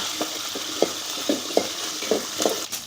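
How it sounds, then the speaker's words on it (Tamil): Garlic and shallots sauté in a pan for a brinjal kuzhambu, with a steady sizzle underneath. A utensil knocks against the pan in regular stirring strokes about every half second, close by and without speech. "பூண்டையும் சின்ன வெங்காயத்தையும் ஒரு பத்து நிமிஷத்துக்கு நல்லா வதக்கிக்கோங்க"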